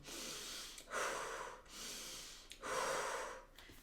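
Rapid energizing breathing exercise: two cycles of quick, forceful nasal breaths, each a sustained hissing inhale-exhale burst, close and fairly loud with brief pauses between, no talking.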